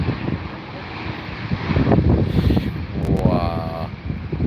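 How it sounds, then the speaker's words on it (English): A Virgin Atlantic Airbus A350 jet roars at an airport, likely Heathrow. The engine noise is loud and steady with heavy wind rumble throughout. "Virgin Atlantic, ladies and gents, here we go. In their A350."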